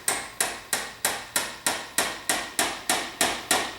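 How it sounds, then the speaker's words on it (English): A small hammer tapping a part into a 1961 Ford F100 unibody engine, about a dozen evenly spaced sharp metallic knocks in a steady rhythm, close and clear with no speech. "You just take a little hammer and you just start slipping it in"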